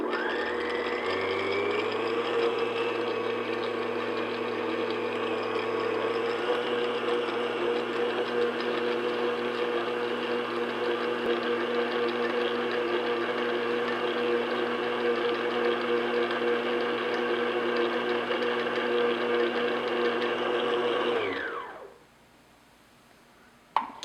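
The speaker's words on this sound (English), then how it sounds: "I'm going to have the mixer on about medium speed" An electric mixer at medium speed beats condensed milk for key lime pie filling, a steady close motor whir with a high tonal whine that holds for about twenty seconds, then winds down and stops.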